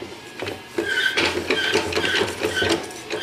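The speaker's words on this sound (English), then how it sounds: "Next, we'll go ahead and put our forward drum in." A forward drum being fitted into a TH400 automatic transmission during a rebuild, heard as close, rhythmic metallic clicking and ratcheting as the parts mesh, with squeaky scraping and no talk.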